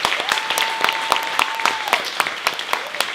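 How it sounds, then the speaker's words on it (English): An audience at a 2018 MLK celebration in Auburn, California applauds after a speaker's introduction. Close, steady clapping with sharp individual claps runs throughout, and a thin sustained whistle-like tone drifts through the first two seconds. "Please keep the applause coming"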